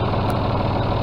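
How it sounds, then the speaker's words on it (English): A 2001 John Deere 5205 tractor fitted with a John Deere 521 front loader idles steadily nearby, a loud continuous low diesel rumble with no talking. "we have a 2001 John Deere 5205 tractor for sale"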